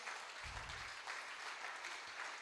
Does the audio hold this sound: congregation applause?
yes